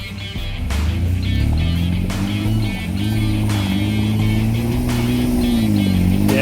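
A petrol car engine revving off road in a petrol versus diesel comparison, its loud, close drone rising and falling in pitch as the throttle surges, with a brief dip midway before climbing again.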